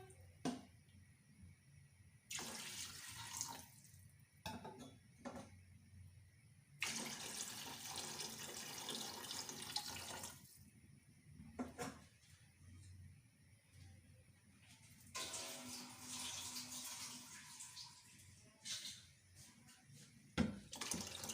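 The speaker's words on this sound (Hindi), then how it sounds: "अब मैं 3 गिलास इसमें पानी डाल रही हूँ।" Water poured from glasses into a cooking pot with rice for chicken pulao, arriving in three separate bursts of pouring and splashing that stand out between quieter kitchen stretches.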